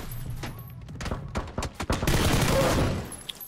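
Gunfire in the battle royale shooter PUBG: a rapid string of close, loud shots in uneven bursts, ending in a denser burst of fire mixed with noisy impacts.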